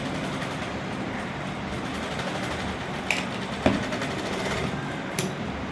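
A sewing machine stitches a design in commando thread: a steady, close mechanical whir runs throughout, with a few faint clicks and knocks as the wheel is turned by hand.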